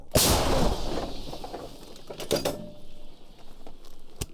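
A single heavy artillery boom erupts near the start and rolls away into a long rumble, with a few sharp clicks and knocks afterward.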